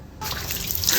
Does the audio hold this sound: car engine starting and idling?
no